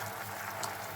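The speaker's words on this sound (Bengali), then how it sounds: "জাস্ট কয়েক সেকেন্ড একটু ফুটিয়ে নেব।" Mini gulab jamun simmer briefly in bubbling sugar syrup, a dense, steady boil with a continuous hiss and fine bubbling, close and even throughout with no voices.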